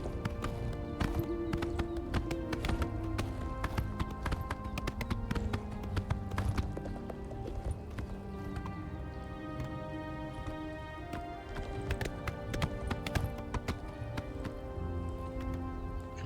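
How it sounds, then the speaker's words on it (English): Horse hooves clip-clop steadily in the video game Oblivion Remastered, a continuous rhythmic clatter mixed with a dense game soundscape and music, moderately loud with no talking. "Gonna be good because I'm on my horse."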